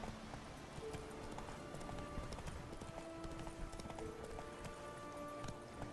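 Horse hooves galloping in The Witcher 3, a steady, fast clip-clop rhythm running throughout over a continuous game background, with faint musical tones.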